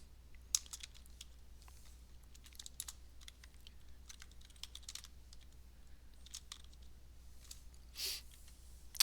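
Quiet, close typing of code on a computer keyboard, a steady patter of soft key clicks with irregular rhythm and no talking.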